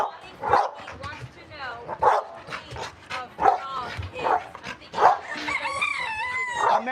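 Game-bred American Pit Bull Terriers bark repeatedly at close range in a steady rhythm, while roosters crow in the background toward the end.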